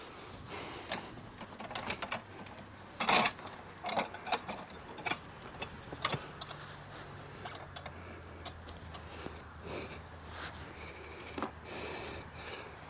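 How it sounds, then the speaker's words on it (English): A beekeeper's hive lifter ratchets while raising a beehive box, a series of close, sharp clicks and clacks in uneven bursts over faint outdoor background, with no speech. "Go in and use my hive lifter."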